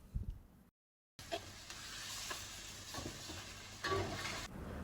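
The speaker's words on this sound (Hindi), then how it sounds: "ऑयल को गरम करके बीच में हमने चिकन डालना है।" Chicken frying in hot oil for chicken karahi, a steady close sizzle with stirring scrapes, briefly cut to silence near the start before the frying resumes loudly.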